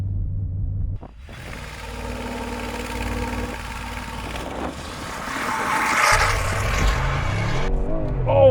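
A 2025 Mercedes G63 V8 idles low, then launches on launch control into a hard, rising acceleration roar that builds for several seconds, with gear shifts and tire noise.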